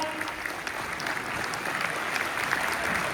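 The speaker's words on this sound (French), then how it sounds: "Applaudissements" A crowd applauds steadily, a dense patter of clapping hands that holds an even level throughout.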